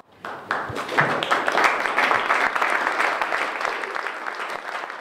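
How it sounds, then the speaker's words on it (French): Standing applause from a municipal council after a unanimous vote, clapping that starts suddenly, swells quickly to a full, steady roar of many hands and carries on without talk. "Un vote à l'unanimité et sous les applaudissements."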